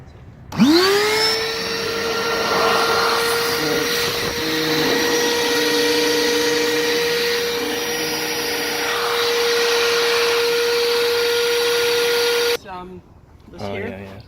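A motorised pump inflates a liferaft, starting with a rising whine and then settling into a loud, steady electric drone for about twelve seconds before it cuts off abruptly, followed by faint movement.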